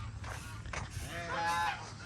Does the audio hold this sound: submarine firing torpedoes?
no